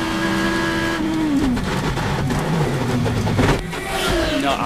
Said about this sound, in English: Let's listen and watch from on board Dan Wheldon.